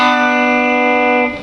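A single electric guitar lick, a clear sustained chord-like note ringing steadily for about a second before fading, close and solo.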